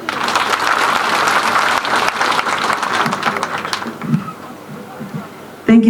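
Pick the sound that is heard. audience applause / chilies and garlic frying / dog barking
audience applause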